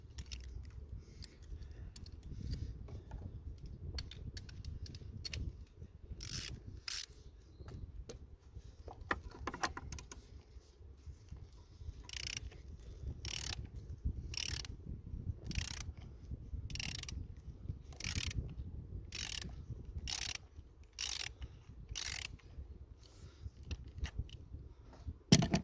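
A ratchet with a swivel and short extension working loose a 24mm oil filter housing on a Vauxhall Astra J: long runs of rapid clicking, later evenly spaced sharp clicks, over faint low background rumble.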